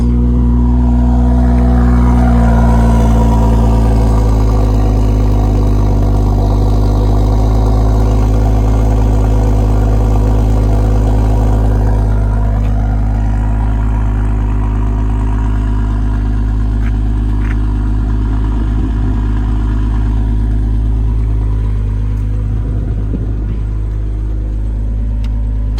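A BMW M140i's six-cylinder engine idling, a loud, steady low rumble held close for nearly half a minute with a slight shift partway through.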